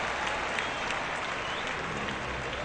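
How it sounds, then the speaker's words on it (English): Steady crowd applause in a baseball video game fills the whole stretch, a dense wash of clapping at even volume with no voices standing out. "Fans applaud that defensive effort."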